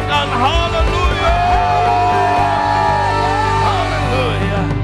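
A church congregation shouts hallelujah together during a worship service, a dense, loud mass of overlapping voices yelling and cheering continuously over a steady low hum.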